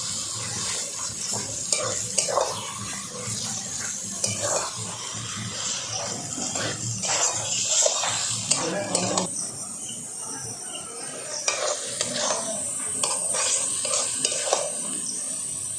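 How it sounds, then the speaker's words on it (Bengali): Mutton fat fries in a spiced masala for yellow peas ghugni, a steady sizzle with repeated stirring scrapes against the pot and a brief quieter pause midway. "এবার এর মধ্যে চর্বিগুলো দিয়ে দেবো।"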